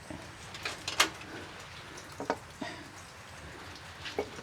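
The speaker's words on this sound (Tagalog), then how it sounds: "Walang sawa talaga yung ulan." Soft, steady rain patter with scattered drips and a few sharper taps on a surface, fairly faint and constant throughout.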